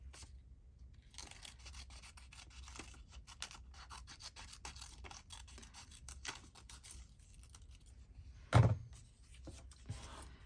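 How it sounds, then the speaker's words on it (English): Scissors snip and rasp through paper while pieces are cut out for a handmade Christmas journal, a close series of soft, uneven cutting and rubbing sounds with a single louder thunk near the end. "you don't have to be too careful about how you cut it out because you've got background there"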